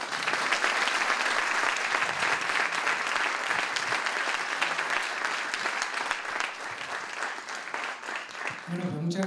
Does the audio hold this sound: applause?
yes